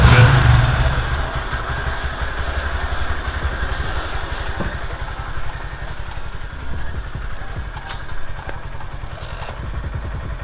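A Honda Grom motorcycle engine revs up under the throttle close by, then settles into a steady, clattering idle-like chug that runs loud and continuous throughout, with no voices.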